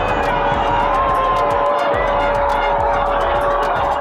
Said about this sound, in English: Brazil already shot a goal and the crowd was going crazy.